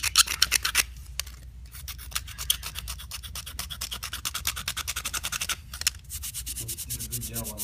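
Rapid rhythmic scraping strokes rasp primer off a hard surface, close and continuous, with brief pauses and a voice speaking briefly near the end.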